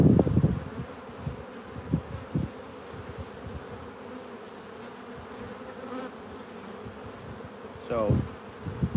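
Honey bees hum in a continuous low drone during a beehive inspection, with scattered louder buzzes as individual bees pass close, plus a few handling knocks and rustles.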